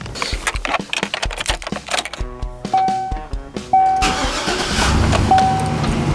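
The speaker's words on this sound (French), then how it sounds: "j'allume le char juste pour couvrir ma voix" A car engine cranks over a series of clicks and rattles, then catches and settles into a steady running rumble, loud and close.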